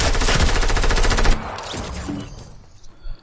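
A fast, steady burst of machine gun fire in a video game, loud and close for over a second, then cutting off into quieter scattered shots and background noise.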